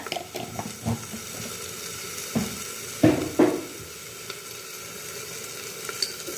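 Brinjal bharta, a mashed eggplant dish, sizzles softly in a pan while a spoon stirs it, giving several short scraping bursts over a low hiss, close and with no voices.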